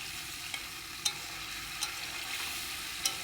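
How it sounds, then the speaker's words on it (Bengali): A fish curry with lemon leaves gently stirred in a pan, a low steady sizzle broken by several sharp, light clicks of a spatula tapping the pan at irregular intervals, close and quiet with no voices. "হালকা করে একটু নেড়ে দিই"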